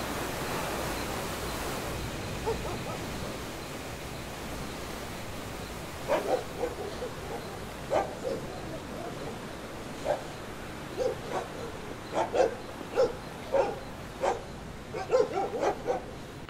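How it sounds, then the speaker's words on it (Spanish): Dogs bark from houses along a hillside path at night, a series of short, moderately distant barks in irregular bursts over a steady background hiss. "los perros empezaron a ladrar porque hay casas en la subida y empezaban a ladrar mucho"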